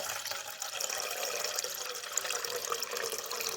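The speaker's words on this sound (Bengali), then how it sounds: "তো এর মধ্যে আমি আরও একবার জল দিয়ে দেবো" Water poured over grated potato to rinse it, a continuous splashing, trickling flow at a moderate level that stays even throughout, with no speech.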